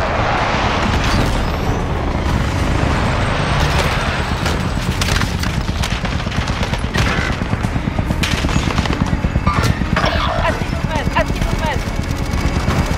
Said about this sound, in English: Hostiles attack chopper carrying cash. Shoot them down.